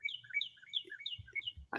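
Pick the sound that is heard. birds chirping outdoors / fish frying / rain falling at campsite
birds chirping outdoors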